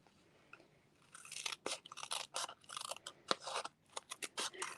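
Scissors snipping strips of white foam dimensional adhesive, a rapid run of crisp close cuts that starts after a quiet moment and continues in an uneven rhythm.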